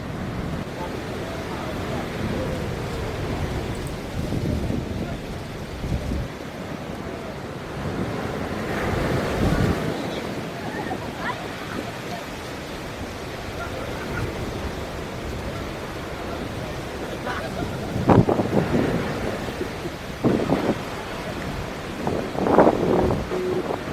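Strong wind buffeting the microphone on the beach at Pagudpod, Ilocos Norte, with light drizzle and surf roaring behind it, loud and continuous with heavier gusts near the end.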